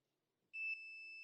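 A heat press timer sounds a single steady electronic beep after near silence, a bright sustained tone that starts abruptly and continues to the end, close and clear.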